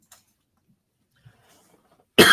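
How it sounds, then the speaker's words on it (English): After near silence, a single sudden cough bursts out close and loud right at the end. "I'm about to have a coughing attack"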